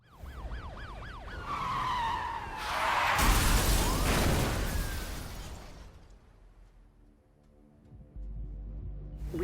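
In the Need for Speed Rivals game, a racer's car crashes at high speed into police units: sirens wail, tires screech loudly, then a heavy smashing impact with shattering debris, followed by a quieter rumble and scraping.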